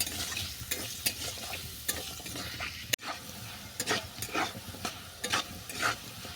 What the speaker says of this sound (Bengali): এটাকে নেড়ে করে বাদামি করে ভেজে নিচ্ছি